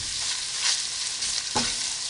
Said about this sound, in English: And I just stir it around.